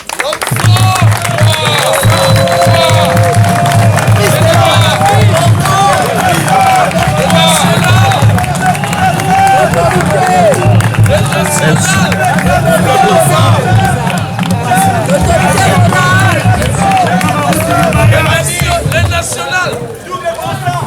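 A large crowd of notables at a formal ceremony in Tshopo applauds steadily and loudly for about twenty seconds, a dense continuous wash of clapping with babble and a voice over a PA running underneath.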